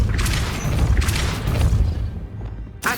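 A Depulso force-push spell is cast in Hogwarts Legacy, giving loud, dense whooshing blasts with booming impacts in quick succession, then a sharp final burst, with no talk over it.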